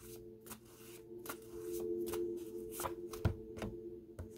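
Tarot cards are shuffled by hand in a quiet room, a run of soft riffling bursts and taps repeating every half second or so, close and faint against a low steady hum.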